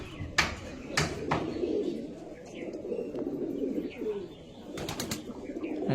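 Fantail pigeons coo and call close by in a steady low murmur, with a few sharp chirps and brief wing flutters breaking through.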